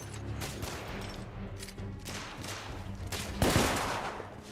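Gunfire from the Victorian-era shooter game The Order: 1886, repeated shots and rapid bursts in a running firefight, with a louder, heavier blast near the end.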